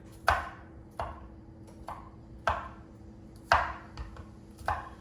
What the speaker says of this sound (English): Now we'll chop up the garlic and get that ready